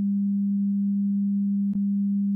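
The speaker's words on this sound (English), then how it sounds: "Mid-frequency sound maximally displaces the middle of the basilar membrane." A steady pure sine tone of moderate pitch holds unbroken with a brief click partway through, loud and alone.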